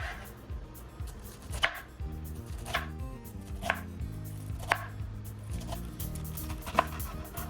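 A knife slices through fresh pineapple for pineapple chow, cutting toward the core in a series of crisp, evenly spaced chops on a board, close and fairly loud, with quiet background noise between strokes.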